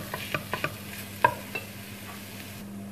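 Meat and onions frying in a pan, stirred with a few sharp utensil clinks and scrapes over a low, steady background hum; quiet and close, no voices.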